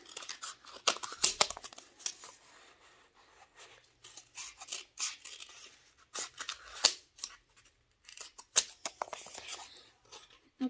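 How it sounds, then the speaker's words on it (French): Scissors snipping through a cardboard toilet paper roll to cut it into thick pieces, close and crisp, with irregular bursts of cutting, crinkling and scraping separated by brief pauses, no voices. "avec du papier toilette, enfin un rouleau de papier toilette. On va le découper comme ça en plusieurs parties"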